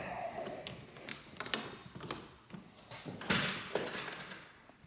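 A stubborn door being worked open outdoors near an oak tree gives a series of scattered clunks, rattles and knocks, fairly close and uneven in rhythm, with no talking.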